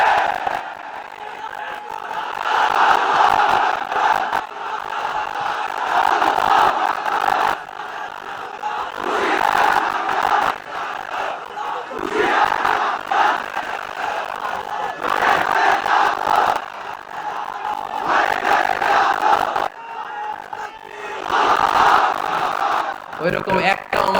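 A large audience at a Bengali Islamic sermon by Mizanur Rahman Azhari shouts back in loud, repeated collective waves in response to the preacher's call, surging and falling across the whole stretch.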